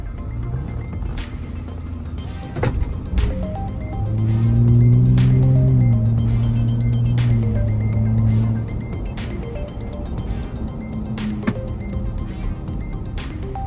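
Engine of a 2022 Ford F-150 Raptor while driving, a steady in-cabin drone that swells into a deeper, louder pull for a few seconds before settling back, with small clicks and bumps over it; no talk.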